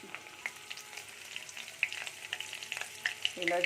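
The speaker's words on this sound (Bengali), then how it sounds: "এবার কড়াইয়ে দিয়ে দিলাম গোটা জিরা" Whole cumin and cardamom fry in oil in a wok, crackling and popping in bursts over a quiet background sizzle, close and fairly soft, with a brief clatter near the end.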